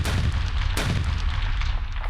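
Artillery gunfire exchanged across the heavily fortified border between North and South Korea: a loud, sharp blast near the start of the clip is followed by rumbling, reverberant booms under dense, sustained noise.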